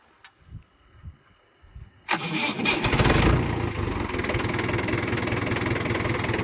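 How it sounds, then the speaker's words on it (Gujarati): A Maharaja tractor engine cranks and catches at about two seconds, then settles into a loud, steady rumbling idle after a few faint knocks. "મહારાજા ટ્રેક્ટર ચાલુ થઈ ગયું છે"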